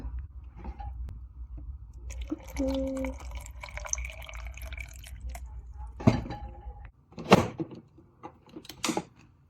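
Coconut water pours into a smoothie for a simple breakfast, a steady close liquid stream and drips, followed by a few sharp knocks and clatters near the end.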